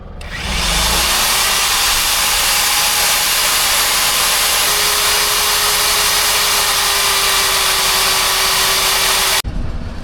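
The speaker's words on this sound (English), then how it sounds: "we got to drill a 4-inch hole" A power drill fitted with a large core bit bores a 4-inch hole for a house's water and sewer lines, a loud steady whirring grind starting up and running continuously until it cuts off abruptly.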